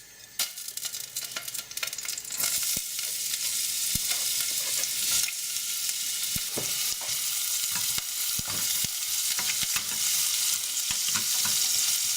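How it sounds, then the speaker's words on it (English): Garlic and ginger mix fries in hot oil for a curry gravy base, a loud, bright, continuous sizzle broken by sharp crackles and occasional stirring scrapes, with no voices. "my oil's heating up. First thing I want to do is add in my garlic and ginger mix."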